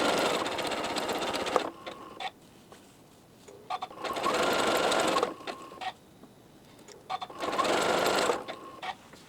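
A sewing machine stitches rows of quilt blocks together in three bursts of steady, fast whirring mechanical chatter, each a couple of seconds long, with short quiet pauses and light handling clicks between runs.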